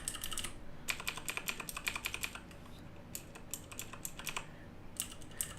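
Crisp, clicky keystrokes from a CM Storm QuickFire Rapid mechanical keyboard with green switches, typed close by in rapid bursts with brief gaps between runs.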